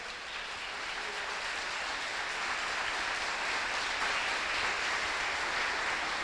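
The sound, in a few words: congregation applauding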